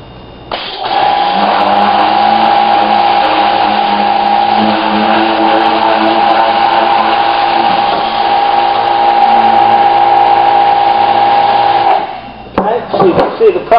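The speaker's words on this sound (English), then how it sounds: "The pressure washer really helps get this stuff off." A pressure washer blasts a screen printing screen during reclaiming, a steady loud motor whine and hiss with a strong tonal hum that holds evenly for about eleven seconds before cutting off, followed by a few clattering knocks.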